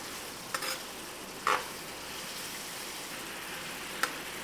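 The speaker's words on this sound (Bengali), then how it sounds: "এই কলিজাটাকে আমি এখানে ভেজে নিব" Beef liver frying on a tawa over medium-high heat, a soft steady sizzle with a few brief scraping stirs, close and quiet with no talk.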